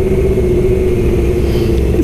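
A Suzuki GSX-R750 motorcycle engine holds a steady, loud mechanical drone with a strong low rumble throughout, sounding close by. No voices are heard.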